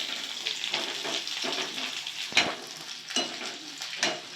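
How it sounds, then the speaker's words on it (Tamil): Onion and capsicum sautéing in a kadai for kadai paneer give a soft, steady sizzle, with repeated stirring scrapes and a few sharper clacks of a spatula against the pan. "நல்லா அப்படியே வதக்கு வதக்குன்னு வதக்கலாம்"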